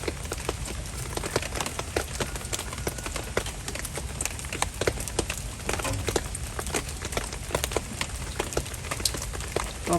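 Steady rain falling all day outdoors in the countryside, a dense continuous patter of drops on surfaces with sharp drip ticks throughout, even and unbroken for the full ten seconds.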